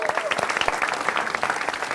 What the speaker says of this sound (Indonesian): Tepuk tangan dong sekali lagi dong.